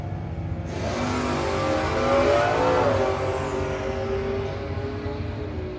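Drag race run at a no-box 660 shootout, a hot rod against an Oldsmobile numbered 799: a loud engine roar surges as the cars launch and pass, then fades gradually into the distance.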